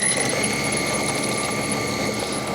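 The engine of a 104-inch Extra 300 model aircraft buzzes steadily as the plane taxis out, a continuous high-pitched whine with a mechanical rattle, close and unbroken with no talk.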